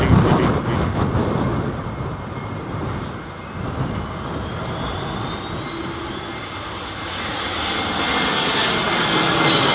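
An airliner lands at Heathrow in a strong gusty wind, its engines roaring loud and close throughout, easing slightly midway, then rising again with a whining turbine tone toward the end.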